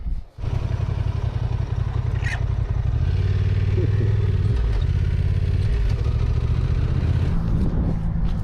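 A motorcycle engine drones steadily while riding on a rough road in Tierra del Fuego, Argentina, close and loud with continuous low rumble, rattling and scraping throughout.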